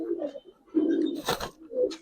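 Pigeons, a long-bodied female giribaz coloring pigeon among them, coo softly up close in a few throaty rising-and-falling bursts, with a brief rustle between calls.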